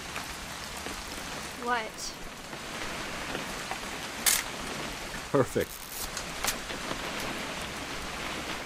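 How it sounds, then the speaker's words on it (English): Steady rain falling in the video game What Remains of Edith Finch, a soft continuous patter on surfaces under brief spoken lines and a few small effects. "It's gonna rain the whole weekend,"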